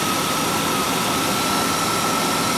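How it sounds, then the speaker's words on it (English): A 1997 Land Rover Discovery SE7 engine idling with the hood down, a steady, even engine hum close by with no talk over it. "Very, very quiet engine, as you can hear."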